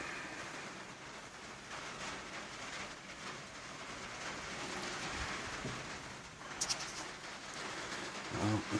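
Rain falls on a remote hillside during a hunting trip, a soft, steady wash of patter with scattered close drips and faint thuds near the end. No one speaks.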